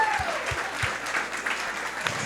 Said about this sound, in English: give it up for Coach Ivey and Hannah Hidalgo